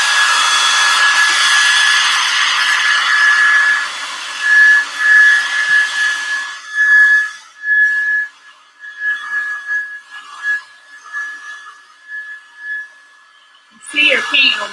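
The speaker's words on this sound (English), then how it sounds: "your paint will move around a little bit with the dryer" A dryer blows on fresh paint covering a thrift-store lamp being upcycled. It gives a loud, steady close whir for several seconds, then switches to choppy on-off bursts.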